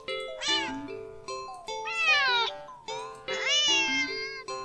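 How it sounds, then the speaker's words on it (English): A cat in an indie horror video game meows in three drawn-out, wavering calls, each one rising and bending in pitch, loud and close over a soft tonal game background. "the cat meows sharply at you and dashes off around the corner and into the hall"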